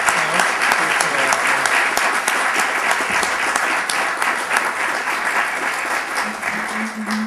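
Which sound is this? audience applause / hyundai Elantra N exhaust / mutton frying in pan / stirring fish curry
audience applause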